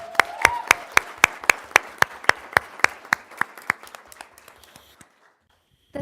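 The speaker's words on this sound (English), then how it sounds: "If we could have one more hand for our OMS cheer team" Steady rhythmic clapping, sharp regular claps that gradually fade and stop, with a faint voice near the start.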